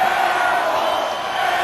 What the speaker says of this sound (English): Crowd letting Russell Carter have it after the air ball